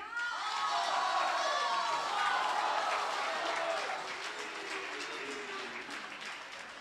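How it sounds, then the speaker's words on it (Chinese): Warm crowd applause and cheering for 60 performers coming onstage at a year-end crosstalk comedy show, a broad, lively roar of clapping with shouts and whistles, gradually easing toward the end. "我们用最热烈的掌声邀请我们的60位演员与大家见面"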